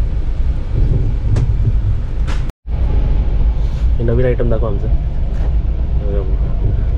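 Constant low rumble and rattle of a moving train carriage, with people chatting nearby over the noise.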